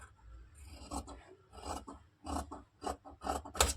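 Scissors cutting blouse fabric along a neckline, a run of close, crisp rasping snips in an irregular rhythm, several cuts in quick succession, fairly quiet with no talk.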